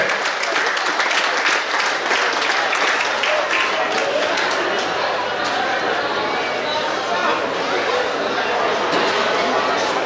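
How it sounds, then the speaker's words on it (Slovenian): A crowd at a volunteer fire brigade's 130th anniversary celebration in Gorje gives warm, continuous applause lasting about ten seconds, dense and even, with some chatter mixed in. "In prisrčen aplavz in iskrene čestitke."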